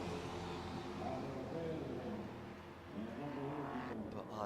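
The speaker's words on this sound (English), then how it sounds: "Now that, to me, that sounds like a V8." Speed Euroseries race car at the Montmelò circuit with a V8-sounding engine, droning and revving steadily at a distance while a commentator talks over it.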